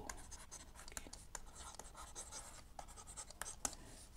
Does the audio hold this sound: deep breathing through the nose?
no